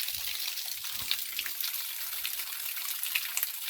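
A waterfall heard from underneath the fall: a steady hiss of falling and splashing water, fairly faint and continuous, with small splashes and footstep-like knocks close by.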